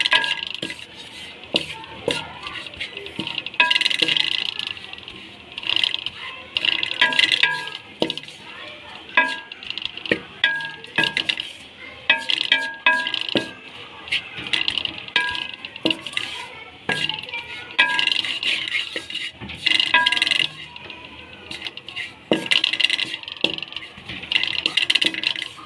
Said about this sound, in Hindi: कंटिन्यू आपने चमचे को हिलाते रहना है ताकि नीचे ना लगे